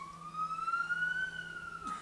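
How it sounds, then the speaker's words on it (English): A siren wails with a single rising and falling tone, moderately loud and steady throughout. "There goes a siren past my house."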